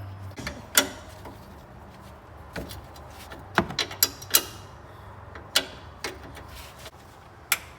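A ratchet works on the front sway bar mount bolts of a 2018 Mazda Miata, giving sparse sharp metallic clicks and knocks at irregular intervals over a quiet background.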